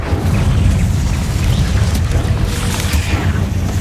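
A fire spell is cast in the Hogwarts Legacy video game: a loud, dense, steady roaring burst that holds its full strength for nearly four seconds, carrying some brighter crackles.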